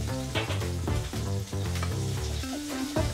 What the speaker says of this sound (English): my salmon is cooking